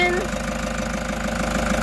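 A 2017 Toyota Hiace Commuter's 3.0 diesel engine idling, a steady low rumble with even knocking pulses, heard close up and alone.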